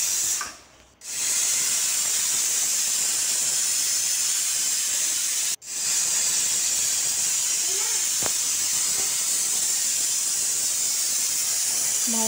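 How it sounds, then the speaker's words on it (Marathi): A pressure cooker cooking khichdi rice on a gas stove releases a loud, continuous hiss of steam, broken twice by brief drops in level. "तर आमच्या कुकरने सुद्धा 3 शिट्ट्या मारून घेतल्या."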